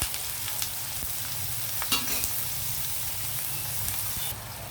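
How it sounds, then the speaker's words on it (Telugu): Sliced onions fry for a chicken potato curry, a steady close sizzle in the pan with light stirring scrapes throughout. "కొద్దిగా యాగనిద్దాము ఉల్లిపాయలు."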